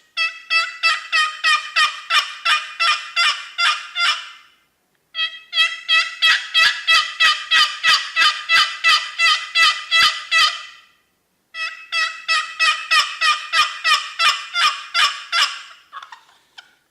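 Crossland Showboat turkey box call made of cherry and black walnut, played in three long runs of rapid, evenly spaced raspy yelps, close and loud with brief pauses between runs and no talking.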